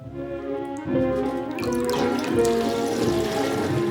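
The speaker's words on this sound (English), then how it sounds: "Now let's pull out the plug and see what happens." Water drains out of a sink after the plug is pulled, a close gurgling trickle that swells and grows busier over a few seconds.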